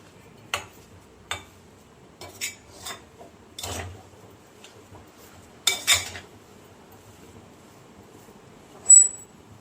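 Spoon taps and scrapes on a pan while a rice flour laddu mixture is stirred: sparse, crisp clinks at irregular intervals in near silence, with one louder knock near the end.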